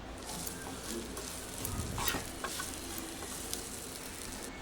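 Ivy gourd (dondakaya) fries in a pan with chili powder, giving a steady, close sizzle with soft crackles and occasional stirring scrapes, and no talking.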